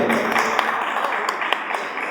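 Audience applause for a performer at a Marathi music launch event, a steady wash of clapping from a crowd with a few sharper claps standing out, continuous through the short stretch.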